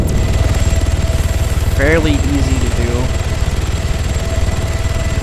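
A helicopter's turbine and rotor run steadily in the video game Arma 3, a loud continuous rhythmic drone throughout while someone talks briefly over it.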